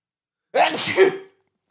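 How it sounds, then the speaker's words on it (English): One sharp, loud sneeze bursts out close by, a single explosive breath lasting under a second, with silence before and after. "That was a sneeze."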